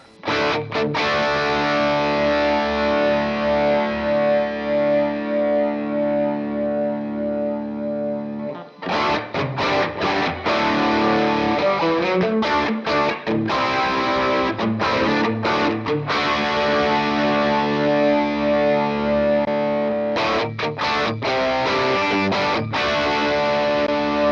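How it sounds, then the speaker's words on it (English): Distorted electric guitar through an amp modeler with studio-style room reverb plays sustained chords with a roomy reverb tail, pausing briefly before resuming with choppy, rhythmic strums. "instead use some sort of room reverb, like a studio or something like that"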